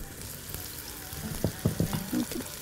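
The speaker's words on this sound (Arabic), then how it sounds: "بما ان الحله سخنه قوي هنزل بالبصله" Onion dropped into ghee in a very hot pot, a soft sizzle under low background with a few louder spatters and stirring scrapes toward the end.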